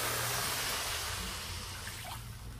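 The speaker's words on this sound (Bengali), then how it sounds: "এবার আমি জলটা দিয়ে দেবো।" Water splashes into a pan of fish curry in a dense, rushing pour that eases off slightly toward the end, close and loud with no voices.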